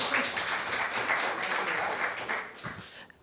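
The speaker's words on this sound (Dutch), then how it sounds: "Een hartelijk applaus allereerst." An audience applauding at a music event, dense continuous clapping that stays full and loud before tapering off abruptly at the end.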